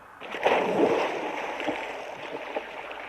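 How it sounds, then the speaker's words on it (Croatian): Boys jump into river water from the bank, making a burst of splashing and sloshing that starts abruptly and then fades into a continuing wash of moving water. "Skačite u vodu, dečaci."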